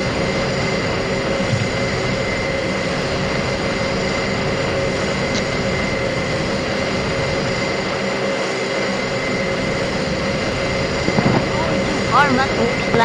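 Steady, loud turboprop aircraft engine drone with a constant propeller hum inside the cabin during descent for landing, continuous throughout with no talk, a few faint higher chirps near the end.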